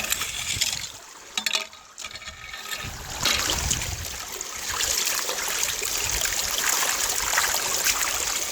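Creek water runs steadily through a small side notch cut at a sluice, a continuous trickling and burbling stream close by, with a brief rougher splash near the start.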